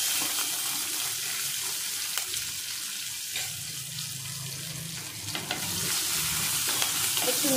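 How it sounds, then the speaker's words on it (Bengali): Whole spices — bay leaf, cinnamon and green chilli — frying in hot oil in a clay pot, a loud continuous hissing sizzle with brief scraping stirs through it. "একটু নাড়বো।"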